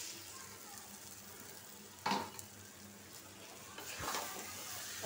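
Egg added to spiced masala frying in a pan, a soft, quiet, continuous sizzle with a sharper burst of crackling as the egg hits the oil and another swell of frying a couple of seconds later.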